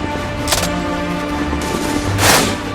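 Gunfire during a Taliban attack on a military post, heard as a loud, dense barrage of shots and bursts with a couple of heavier blasts, no voices.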